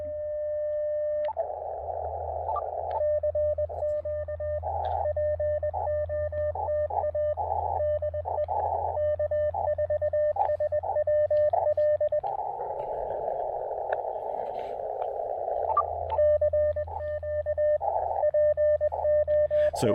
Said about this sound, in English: I could probably turn up my side tone a little bit so you can hear it easier.